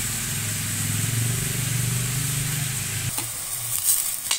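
Bean sprouts and tofu sauté in a pan with a steady, close sizzle and stirring hiss, followed by a brief utensil clatter near the end. No one talks.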